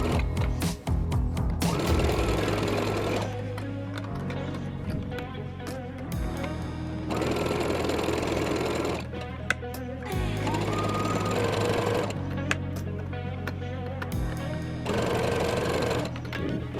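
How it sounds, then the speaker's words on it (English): An overlocker serger sews a T-shirt seam, its loud rapid motor chatter running in long bursts with brief pauses between runs as fabric is guided through. "I'm using a small tool to help me guide the fabric through the overlocker and make sure nothing gets missed."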